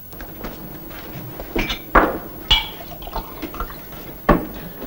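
Water poured into a glass in a 1964 Soviet film scene: a few light clinks of glassware and short liquid splashes, near and fairly loud, with no talking.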